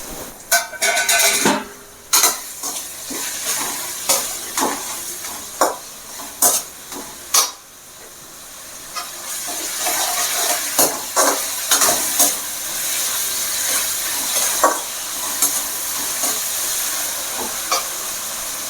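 Onion and tomato sauté in a pan with curry leaves added for mutton head curry, giving steady sizzling and hiss broken by repeated sharp clinks and scrapes of a spoon stirring against the pan, then a louder, fuller sizzle.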